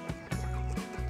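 Darag chickens in a Cebu coop give a couple of short, soft clucks at close range in a brief moment with no speech.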